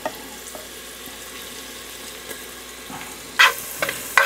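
Garlic sautéing in rendered pork belly fat for a pork belly mung bean dish, a low steady sizzle with a few sharper crackling bursts near the end, no talking.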